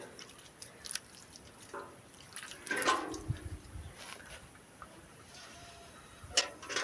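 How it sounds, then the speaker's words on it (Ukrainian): Water is poured over freshly soldered, still-smoking aluminium, giving a brief hissing splash midway through a quiet stretch of faint drips and small ticks. "зараз водичкою це охолодимо"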